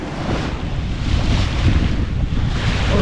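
Steady wind rush and washing waves around a sailboat under way at about 80 degrees off the wind, a continuous loud low roar with slight surges and no voices.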